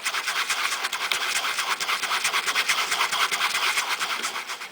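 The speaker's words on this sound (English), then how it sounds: "this time using the brush. Work it into the stain." A brush scrubs Amodex stain remover into Sharpie-stained fabric with quick, rhythmic, bristly back-and-forth strokes, close and steady for several seconds with no talking.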